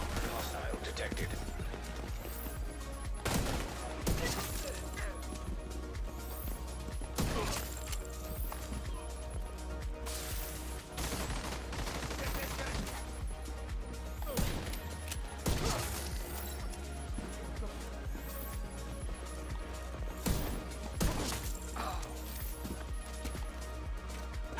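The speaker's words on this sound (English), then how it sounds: "So there's a pistol shot." Pistol shots in The Division 2, a series of sharp, loud cracks spaced a few seconds apart over a busy bed of game sound and mechanical clatter.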